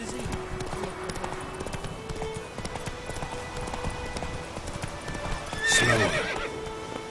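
A horse in The Witcher 3 trots with rapid, continuous hoofbeats, then gives a loud, close neigh near the end; someone speaks briefly over the hooves.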